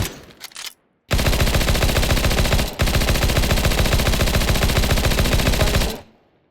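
UMP submachine gun firing in the video game Counter-Strike 2, two long bursts of rapid automatic shots, loud and close, split by a brief pause, with faint equip sounds at the start and no talk.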